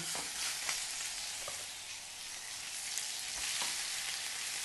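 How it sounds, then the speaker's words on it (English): A steak sears in a dry, hot pan with no oil, giving a steady, bright sizzle and crackle with a few brief scraping touches and no talking. "I'm going to move it over to the pan and put it straight in, dry heat"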